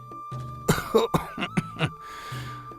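A man coughs several times in a short, rough series, close by, followed by a wheezy breath in a quiet room.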